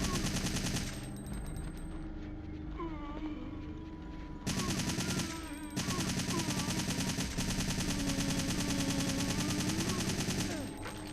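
Gunfire in Resident Evil 3 sounds as loud, dense bursts of rapid automatic shots. A brief lull follows, then the firing resumes in sustained volleys.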